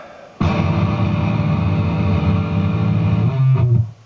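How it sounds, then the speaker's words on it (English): A sustained distorted electric guitar chord rings out loud and gritty, holding steady before a brief shift near the end. "So guitar 1 is the distortion"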